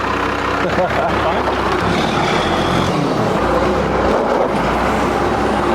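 A hot rod, a 1997 12-valve with a five-speed, idles with a steady low engine rumble throughout, loud and close, with no talking over it.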